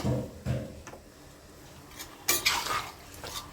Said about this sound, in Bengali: একটু নেড়ে চেড়ে এবার জাস্ট ঢাকা দিয়ে দেবো